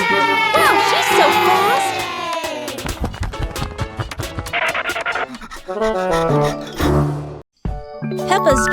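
Cartoon race crowd cheering and shouting, loud and busy, mixed with music, voices and sound effects, briefly cutting out near the end before resuming.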